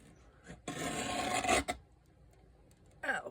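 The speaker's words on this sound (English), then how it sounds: "I take my cutter and I'm going to" A craft cutter slices a thin sliver off a woodland fairy craft piece, giving a close, loud rasping scrape of about a second, followed by a brief scraping sound near the end.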